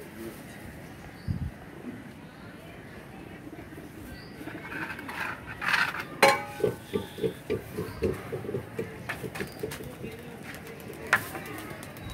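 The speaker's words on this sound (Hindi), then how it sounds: "कबूतर ही कबूतर हो गए जी" Flock of pigeons at a rooftop loft, a series of wingbeat flaps and flutters as 20-25 young birds take off together, with faint cooing and someone talking over the scene.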